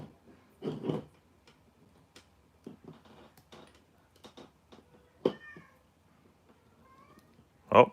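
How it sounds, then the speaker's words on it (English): A cat meows a few times, short and fairly close, in a quiet room where light ticking and clicks of cleaning engine parts surround it; the last meow is the loudest. "Oh, I hear Sandy meowing."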